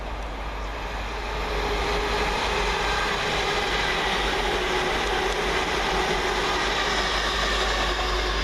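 LNER class 802 train passing through Peterborough station, a loud steady rumble and rush of wheels and engines that builds in the first couple of seconds and then holds evenly.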